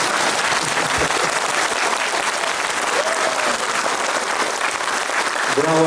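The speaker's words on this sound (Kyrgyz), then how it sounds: "Баарыңызда кол чапканда неме экенсиң" A hall audience in Naryn keeps up lively applause, thick and continuous, with a voice briefly heard near the end over the clapping.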